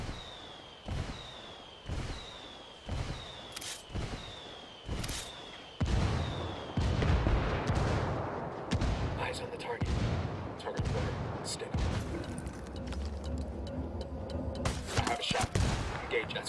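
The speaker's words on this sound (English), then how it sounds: "Calling for indirect fire." Artillery strike explosions in Ghost Recon Wildlands: a rapid series of heavy booms with whistling incoming shells, then a dense, sustained barrage of loud rumbling blasts and crackling debris.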